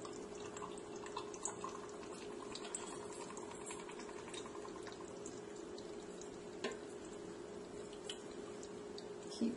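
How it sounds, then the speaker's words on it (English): Water pours into a jar tightly packed with cabbage, a faint, continuous trickle and bubbling as it seeps into the gaps, with no talking. "I'm going to pour water in here and let the water fill in into all the little spaces."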